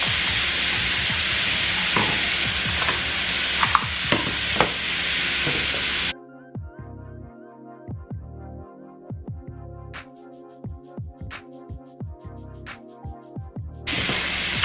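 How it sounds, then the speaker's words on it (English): Broccoli and mixed vegetables stir-frying in a pan for a beef and shrimp stir fry: steady sizzle with scraping stirs for the first six seconds, then a quieter, sparser crackle with intermittent clicks and clatter. "We got a good saute on these veggies."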